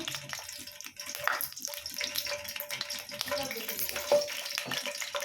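Green chillies fry in heating oil with a steady, close crackling sizzle that carries on throughout at a moderate level, with occasional small pops.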